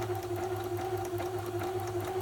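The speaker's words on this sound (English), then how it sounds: "When you're ready to go, foot back onto foot pedal, and then you carry on stitching." Sewing machine stitching an appliqué, a close, steady, even hum with a fast rhythmic needle tapping that continues without pause.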